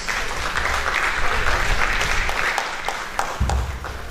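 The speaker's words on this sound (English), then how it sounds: "so let's clap for ourselves" A group at a university research grantsmanship training session applauds themselves, a steady wash of clapping held at close range throughout.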